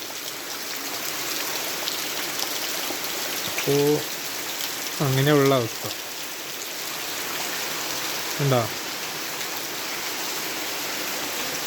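Full, heavy rain keeps up a soft, even hiss at home throughout, with a few short bursts of nearby talk breaking over it.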